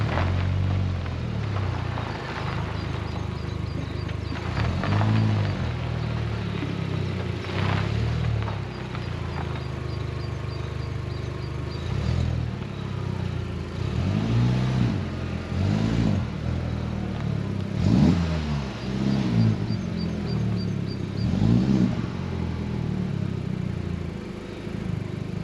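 An Audi TT Mark 2 drives along with its engine running, a low steady drone that swells in several throttle rises over a long stretch, with faint knocks and rattles in the cabin.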